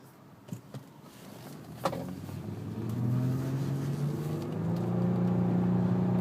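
A 2012 Nissan Altima Coupe V6 with a CVT drives along, its engine hum rising into a steady droning tone held at one pitch, heard from inside the cabin with a few small clicks early on.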